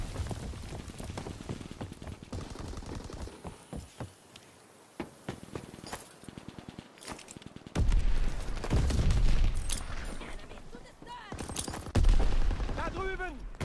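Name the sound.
enemy mortar fire and gunfire in video game Call of Duty WW2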